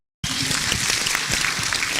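Loud applause breaks out abruptly and continues steadily, a dense clapping crowd at a church gathering in Makongeni welcoming the Kiambu county governor.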